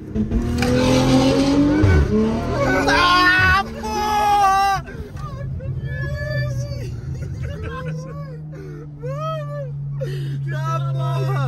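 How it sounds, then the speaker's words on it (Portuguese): A car passes on a street in Londrina, Brazil, its engine and tires rising and fading amid loud, excited group talk and shouting, with a low steady hum continuing underneath. "Peraí que tá passando um carro ali."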